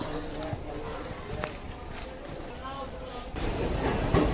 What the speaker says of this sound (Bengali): এখন তিনটে বাজে আর ট্রেনটা জাস্ট ছাড়লো